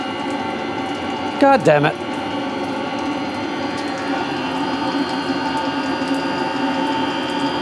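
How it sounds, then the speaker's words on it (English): A diesel heater's shower water pump with an airlock runs as a steady mechanical whir and hiss throughout, with a brief rattling burst early on; a man swears once over it. "I've got an airlock in the pump"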